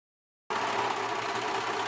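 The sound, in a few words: overlocker sewing machine overlocking fabric edges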